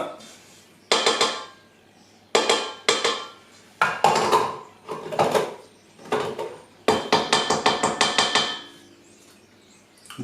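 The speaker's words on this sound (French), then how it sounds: "Le beurre et le sucre, on va les décoller un peu du fond." A spatula scrapes butter and sugar off the bottom of a mixing bowl while making a gâteau nantais, in repeated short bursts of scraping and clinking separated by brief pauses.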